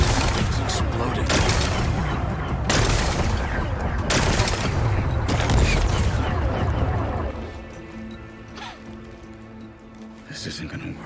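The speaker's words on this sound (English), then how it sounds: "It's exploding." A heavy explosion in Horizon Forbidden West rolls out as a dense run of booming, crackling bursts for about seven seconds, then thins into a quieter rumble with fainter hits near the end.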